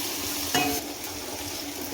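Okra fry is stirred in a pan, a brief close burst of sizzling with a spatula scraping through the pieces, with no voices.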